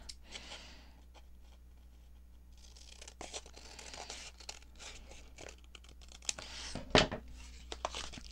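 Paper from an oversized book page being cut out for an envelope, with scissor snips and tearing, crinkling rustles through the clip and a sharper crunch near the end, fairly close and moderately quiet.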